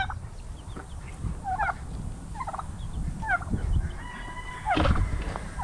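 A hen with two chicks at a backyard feeding spot: repeated short, rising chirps and soft clucks come in scattered bursts at moderate loudness over a low rumble of background noise.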